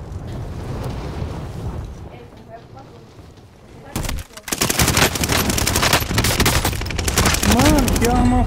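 Weapon fire in Call of Duty: Warzone: a quiet stretch of ambient rumble, then loud rapid bursts of automatic gunfire that break out at about four seconds and keep going densely to the end.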